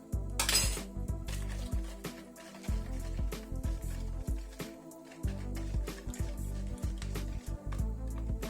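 A whisk clatters rhythmically against a bowl of sugar and egg batter, quick metallic taps and scraping repeated through the whole stretch, close by and fairly quiet.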